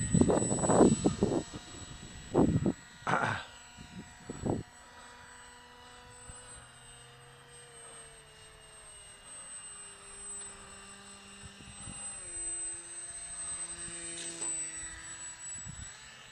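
A Mini Vixen 620 model airplane on its maiden flight, its small engine whining steadily overhead with pitch rising and falling as it passes and turns, after a few brief voices and knocks nearby.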